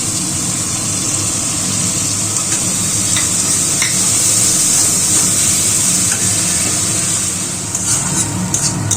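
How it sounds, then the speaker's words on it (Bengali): Ginger paste stirred in a hot pan, giving a loud, continuous close-up sizzle with scraping stirring noises throughout, easing slightly near the end. "আদা বাটাটা দিয়ে কিছুক্ষণ নাড়লাম"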